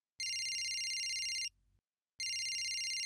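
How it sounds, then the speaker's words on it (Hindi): A telephone rings indoors in a comedy drama scene, two electronic trilling rings separated by a short pause, clear and moderately loud with no talk over it. "चंडाल फोन काहे नहीं उठाता"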